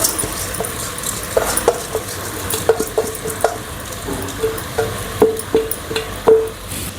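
Masala for methi palav being stirred and fried in a pan, with repeated spoon-on-pan clinks and scrapes in an uneven rhythm over a close, steady sizzle.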